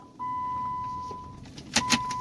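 A 2010 Dodge Avenger 2.4L with a misfire and bad ECM being shut off: a steady electronic tone over low idle, then a few sharp clicks and clunks as it switches off.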